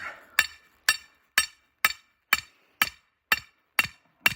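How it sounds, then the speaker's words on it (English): Sledgehammer driving a trap stake into dirt, nine sharp, evenly spaced blows about half a second apart, loud and close with no voices. "you're going to take your sledgehammer and drive it down in there"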